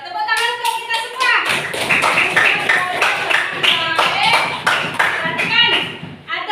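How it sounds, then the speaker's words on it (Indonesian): Children in a classroom clap together in a fast, rhythmic burst of sharp hand claps, loud and close, with young voices calling out over the clapping. "Tepuk tangan untuk kita semua."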